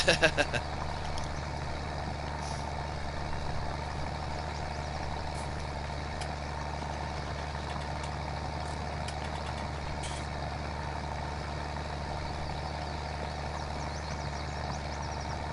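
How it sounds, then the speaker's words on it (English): A steady, low engine drone hums throughout with a constant rumbling tone, an idling New Holland tractor in Farming Simulator 19 with faint background noise and occasional light clicks. "I really like the sound of this tractor."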